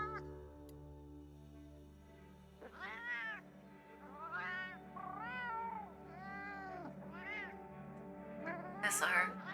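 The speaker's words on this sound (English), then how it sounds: "My cat has the high-pitched voice." A cat in the video game Girls' Frontline 2 gives a string of high-pitched meows, several rising and falling calls in a row over a low steady background hum.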